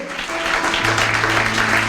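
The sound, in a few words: applause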